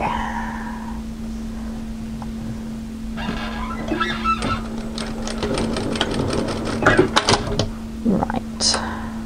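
A sewing machine stitches the edge of a raw-hem tee in a steady buzzing run of rapid needle strokes, close and moderately loud, with a constant electrical hum underneath and brief pauses between bursts.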